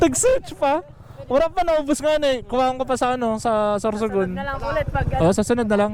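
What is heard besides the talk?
None of the usual background noises is heard.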